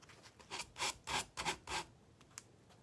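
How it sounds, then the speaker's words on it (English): Sandpaper or a sanding block rasping across a wooden photo frame, five or six firm back-and-forth strokes in a steady rhythm, close and fairly loud, then a couple of lighter scrapes before it trails off. "So we're gonna go with the sanding again."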